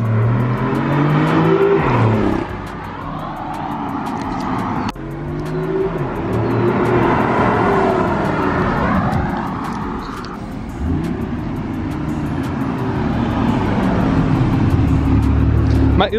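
BMW i8 with a loud aftermarket exhaust revving and accelerating up through the gears, the engine note rising and falling in repeated pulls, close and loud, with brief talk inside the car.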